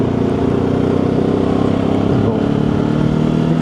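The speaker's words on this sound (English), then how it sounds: "Accelerate up the slip road to national speed limit." A Benelli TRK 702 motorcycle accelerating up a motorway slip road toward the speed limit, its engine droning loud and close with steady harmonic tones and wind rush, not at full throttle.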